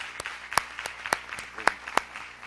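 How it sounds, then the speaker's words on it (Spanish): A few audience members clap sparsely at a conference session, scattered individual claps at a moderate distance with no steady rhythm, fairly quiet overall. "un aplauso por favor, un aplauso"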